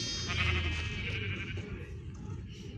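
A sheep in a video game bleats once in a drawn-out, wavering call, close and clear, followed by faint background murmur.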